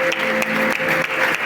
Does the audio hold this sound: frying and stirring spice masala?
no